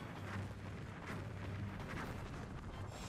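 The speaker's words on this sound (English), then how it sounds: "They drop exploding kunais" Exploding kunai blasts in the Hyrule Warriors: Age of Calamity demo on Switch: a continuous, dense roar of rumbling explosions with overlapping bursts, steady and loud throughout, no voices.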